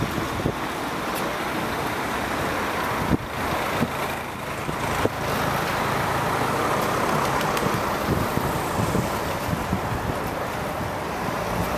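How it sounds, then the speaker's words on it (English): Steady road traffic noise with cars and trucks rolling past a recumbent ICE Vortex trike on a Sunday ride, a continuous broadband roar with wind buffeting the microphone and no talk. "make sure we don't get caught up in this traffic"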